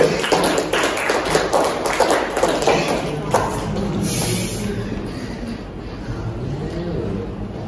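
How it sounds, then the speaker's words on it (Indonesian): A classroom group claps for the third group of students, a dense burst of applause at the start that thins and fades over several seconds, fairly loud and close. "Ya, tepuk tangan untuk kelompok ketiga."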